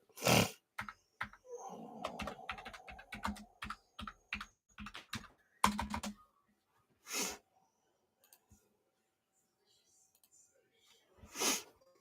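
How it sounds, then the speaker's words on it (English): Clattery typing on a computer keyboard, bursts of key taps in the first six seconds and then isolated louder knocks among quiet gaps, with a brief sniffle or breath mixed in. "Move this so I can type a little bit."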